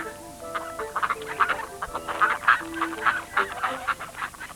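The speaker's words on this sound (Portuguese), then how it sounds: "Havia todo o tipo de patos a nadar e ela atirou-lhes pão" Many ducks on a lake quack and honk in a lively overlapping chorus, close and fairly clear, with calls coming in quick irregular bursts and no talking.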